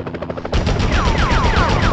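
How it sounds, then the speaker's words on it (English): Gunfire in a Spider-Man video game, rapid machine-gun volleys rattling continuously and loud, growing denser partway through, with no speech over it. "Enough with the shooting already!"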